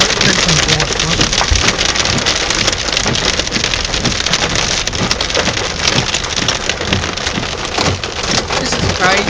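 Heavy storm rain pours down during flooding in Ballarat in 2011. Dense, loud, constant drumming beats on surfaces close by, with scattered sharper drop impacts and no let-up.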